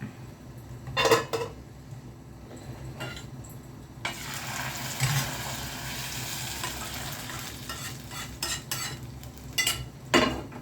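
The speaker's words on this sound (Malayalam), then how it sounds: "ഇനി നമുക്കൊന്ന് ഇളക്കി അടച്ചു വയ്ക്കാം" Fish curry being stirred in a pot and then covered, with close scraping and clinking of a spoon against the metal pot in a few bursts over a quiet, faintly hissing kitchen background.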